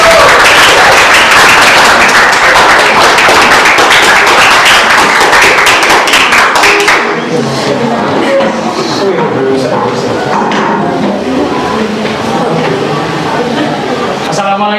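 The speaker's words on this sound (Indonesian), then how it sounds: "kita kasih tepuk tangan yang luar biasa untuk kelompok" Applause for a student group at a school biology class presentation, a loud dense burst of clapping for about seven seconds that then drops away to quieter room noise and murmuring voices.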